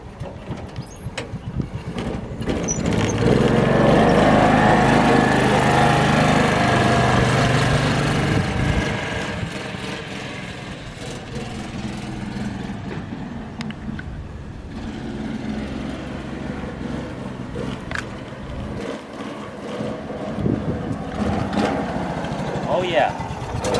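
A restored John Deere Gator 4x2 utility vehicle drives, its small engine swelling loud under acceleration for several seconds, then easing to a steadier, quieter hum with scattered clatter.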